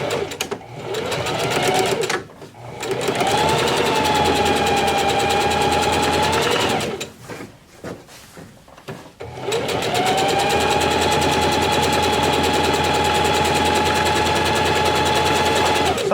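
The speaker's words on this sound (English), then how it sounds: "So I'll do a 1/4 inch stitch all the way down." A sewing machine runs a long 1/4 inch seam on a gathered skirt with elastic waistband, whirring fast and steady, pausing briefly midway, then stitching on again.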